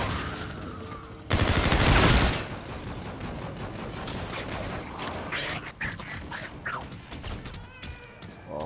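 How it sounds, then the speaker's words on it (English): Video game gunfire bursts out loud for about a second, then continues as scattered, clattering shots and mechanical noises through a busy battle soundscape. "Who's shooting me there?"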